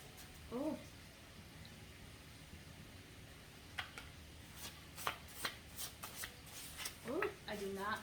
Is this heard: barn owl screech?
no